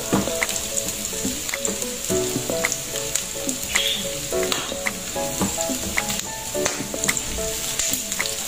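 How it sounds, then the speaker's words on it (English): Chopped garlic frying and browning in oil in a pan, a steady loud sizzle with crackling pops and occasional stirring scrapes, close up and continuous. "Atin mo na ikabrown itong bawang."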